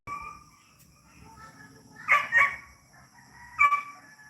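Chickens in a coop in Bohol, Philippines, cluck softly. A rooster breaks in with a couple of loud crowing bursts and then another call, heard from moderately close.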